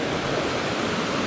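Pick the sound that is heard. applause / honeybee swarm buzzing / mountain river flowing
mountain river flowing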